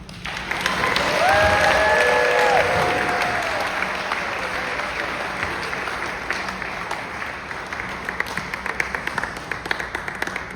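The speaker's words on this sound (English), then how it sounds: "How about another big round of applause for Ted and Judy." Wedding reception guests applaud after a father-of-the-bride speech, a full round of clapping that swells, with cheering voices early on, then thins into scattered sharp claps over about ten seconds.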